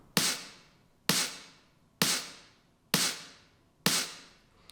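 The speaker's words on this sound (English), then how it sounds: "Next we have snare that sounds like this." Bright, snappy techno snare hitting alone five times at an even, slow pace, each crack sharp with a short noisy tail, fairly quiet.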